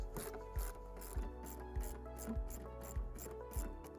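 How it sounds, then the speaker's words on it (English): A socket wrench removing 10mm taillight fasteners on a 2022-2026 Toyota Corolla Cross, quiet repeated ratcheting clicks in an even rhythm of about two per second, close and faint. "To remove the taillights, we're going to remove two 10mm fasteners with a socket."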